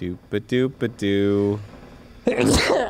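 A man sneezes loudly once near the end, a sharp noisy burst right after another voice sings a short nonsense tune during a game session.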